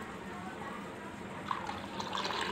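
Milk is poured into semolina halwa in a pan, a soft, quiet liquid trickle and splash that grows slightly livelier toward the end.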